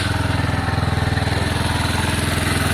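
Lexmoto Valiant motorcycle engine, converted from fuel injection to carburettor, idling steadily after its first start-up with a fast even putter, close and continuous with no talk.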